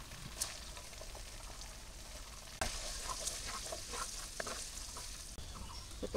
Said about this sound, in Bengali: এই গোস্ত ভাজা তেলের মধ্যেই পেঁয়াজ দিয়ে দিলাম।